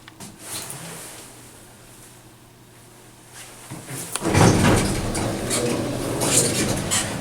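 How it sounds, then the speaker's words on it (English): A Westinghouse hydraulic elevator door at a Macy's store slides along its track, with a quiet stretch followed by a louder rumbling, clattering run of door movement that stays steady near the end. "Watch the door, they were like kind of spazzing out."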